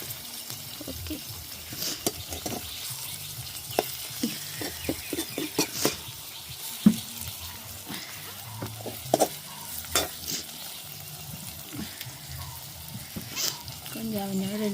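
Prawn curry is stirred and mixed in a pan, with scattered scrapes and clacks of a spoon over a low bubbling sizzle, and brief murmurs of talk at times.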